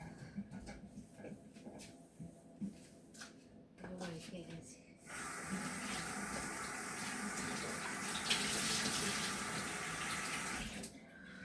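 Tap water runs and splashes steadily in a home kitchen while a meal is being prepared, starting abruptly after a few seconds of quieter voices and clatter and continuing loud and continuous to the end.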